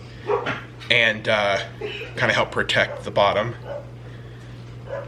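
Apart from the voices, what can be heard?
dogs barking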